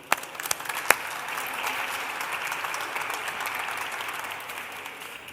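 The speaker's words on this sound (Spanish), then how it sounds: "Un aplauso para Sergio." An audience gives a brisk round of applause for a speaker at a talk event. A few sharp early claps swell into steady, moderately distant clapping that carries evenly to the end.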